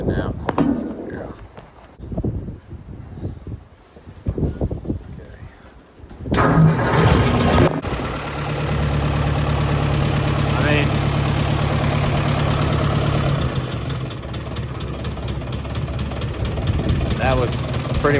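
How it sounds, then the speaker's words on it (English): Rebuilt engine in an old tractor cranks briefly, fires and settles into a loud, steady idle, with talk over the quieter moments before starting. "That was pretty much just barely tapped the starter and it fired."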